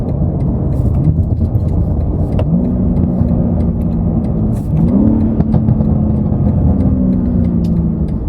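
Loud BMW G80 M3 engine and AWE Switchpath exhaust with catted downpipes roaring nearby, with pitch dropping and rising again as the car downshifts and revs, no voices.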